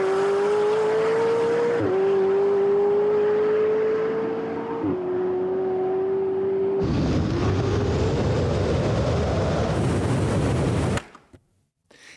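A McLaren 720S and a Tesla Plaid drag racing from a rolling start: a loud, close engine drone climbs in pitch through several gearshifts, then a rushing roar of passing cars before the sound drops away abruptly.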